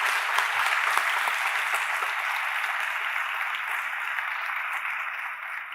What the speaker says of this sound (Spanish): vamos a despedirnos de David con un fuerte aplauso y de Jaime también